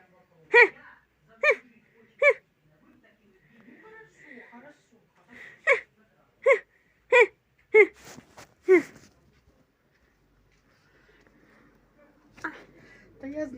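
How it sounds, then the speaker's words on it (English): A person hiccups repeatedly, about ten sharp voiced hiccups in uneven clusters, each short and distinct, close to the listener, with quiet breathy gaps and faint sounds between them. "Hiccups."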